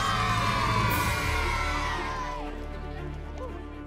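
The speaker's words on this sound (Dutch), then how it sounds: "Een groot applaus voor Sam en Kai," Studio audience at a Dutch TV game show cheers, whoops and claps for two contestants being introduced as heroes, a loud continuous crowd roar with music playing underneath, gradually settling.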